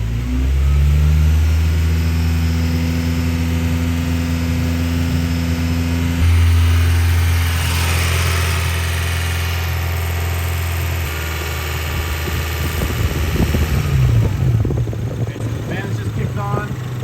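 A Honda Prelude engine is held at a steady high rev, around 3,000 rpm, droning with strong low tones, then drops and turns rough and uneven, with some talk underneath.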